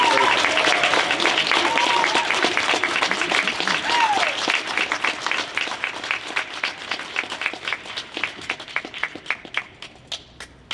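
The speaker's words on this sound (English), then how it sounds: "Everyone, I want to hear a round of applause for Jonina and Lorenzo." Applause from a crowd at an anarchist bookfair in Sacramento, loud and dense at first, then thinning into scattered individual claps as it fades; faint voices and a cheer are heard within it.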